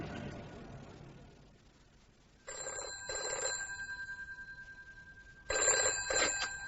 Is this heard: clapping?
no